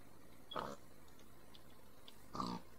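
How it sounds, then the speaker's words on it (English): Wild boars in the Minecraft Twilight Forest mod grunt twice, two short snorting bursts spaced about two seconds apart over a faint background hum, fairly quiet and close. "Wild boars."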